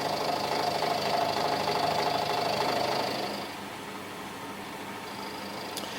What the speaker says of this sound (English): So I've got these in the little mill here, and I'm just doing a facing cut on each end just to obtain a datum end